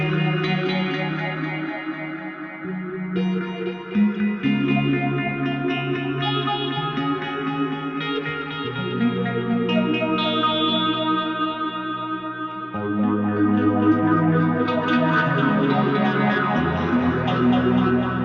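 Electric guitar played through a HeadRush unit with a phase 90-style phaser, delay, reverb and compressor on a Marshall-type amp model, ringing sustained chords and melodic lines with swirling, echoing tails throughout.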